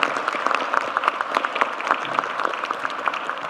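A crowd of citizens at a presidential public event in Ulsan claps together, a brief burst of dense, even applause filling a few seconds without speech.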